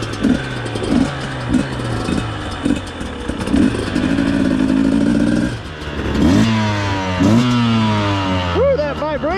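A 2020 Beta 200 RR two-stroke dirt bike engine running nearby, idling with a chattering pulse and then revving repeatedly in rising and falling bursts, with a voice speaking over it.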